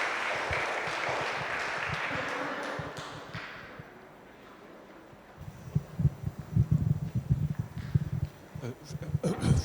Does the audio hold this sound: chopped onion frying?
no